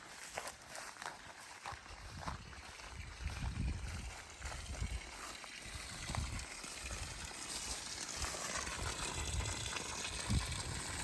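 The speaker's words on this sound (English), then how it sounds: "Have a nice steady stream going down to the pasture, and the pump is working out fantastic." Water pumped by an off-grid solar water pump runs out in a steady, fairly faint stream, gushing and splashing continuously with occasional knocks and rustling nearby.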